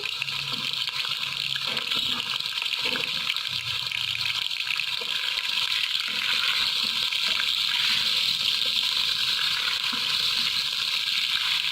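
Chicken sizzles and spatters in hot oil in a pan, a dense, steady hissing crackle that continues without pause throughout.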